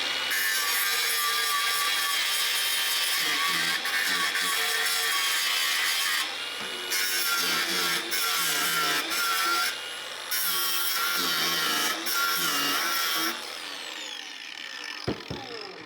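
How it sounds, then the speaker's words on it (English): A power tool grinds and saws through the heads of small aluminium pop rivets on a scrapped Boca thermal ticket printer, a loud, continuous high whine broken by short pauses between cuts. "Let's take the top off these little pop rivets."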